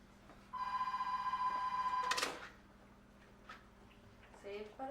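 A single electronic telephone ring lasts under two seconds indoors, followed by a clatter as the phone is picked up and then quieter room sounds.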